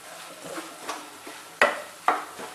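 Masala spices and salt being stirred in hot oil for dum aloo, with soft scraping strokes and two sharper spoon-against-pan knocks over a light sizzle, close and fairly quiet.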